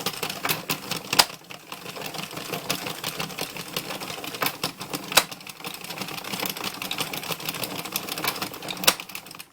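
An Addi knitting machine is cranked through rows for a dog draft stopper, giving a busy, uneven clatter of plastic needles with sharper clacks every few seconds, close and fairly loud, with no talking.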